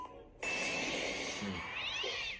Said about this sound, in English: Cat Wilhelm scream.